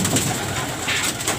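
Pigeons coo softly inside a racing pigeon loft, with low murmuring calls over a steady, busy background hum.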